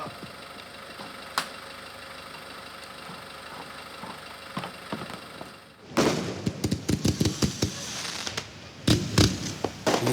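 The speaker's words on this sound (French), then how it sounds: "Les soirées feux d'artifice, temps fort de l'été à Marseillan-Plage." A summer fireworks display at Marseillan-Plage, opening with a low idling engine hum before a dense burst of sharp booms and crackles breaks out, loud and irregular, with rapid pops in clusters.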